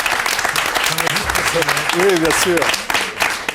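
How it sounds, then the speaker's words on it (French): Audience applause for someone after a flight landing, a steady wash of clapping running throughout under someone speaking French over it. "je crois qu'on peut l'applaudir"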